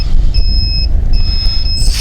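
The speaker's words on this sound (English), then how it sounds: "it's doing that annoying beep again" Two sustained high-pitched electronic beeps from a JJRC JJPRO P175 FPV race drone arming its motors sound in sequence over a low, steady rumble, each lasting about half a second.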